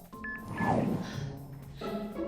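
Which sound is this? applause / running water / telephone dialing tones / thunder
telephone dialing tones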